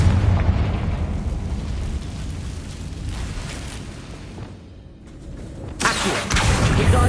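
Confringo fire spell explosion in Hogwarts Legacy on PS5, a rumbling fiery blast that swells and fades, followed by a sudden bright crackling burst near the end.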